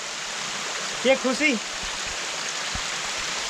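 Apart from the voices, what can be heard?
water cascading down fort steps in monsoon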